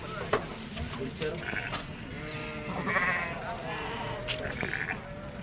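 At a livestock market, sheep give a series of close, quavering bleats, some overlapping, set against a steady murmur of people talking around the animals.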